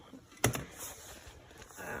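A hairdryer attachment snaps onto a professional salon infrared hair dryer with one quiet, sharp click and a brief follow-up tap, then faint handling noise in a quiet room.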